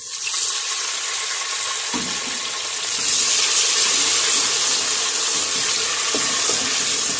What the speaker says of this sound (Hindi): अब मैं हल्का सा पानी डालने लगी हूँ।